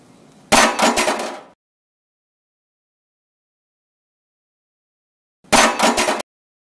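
A spoon is thrown into a sink twice, each a sharp metallic clattering crash lasting about a second, mimicking a bottle breaking, with silence between the two.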